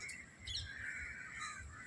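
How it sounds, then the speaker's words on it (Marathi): Crows bathing in a garden give faint, short caws and squawks, heard at a distance over a quiet background. "कावळे किती छान पद्धतीने आंघोळ करतात"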